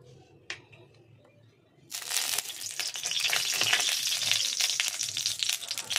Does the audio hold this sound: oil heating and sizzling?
yes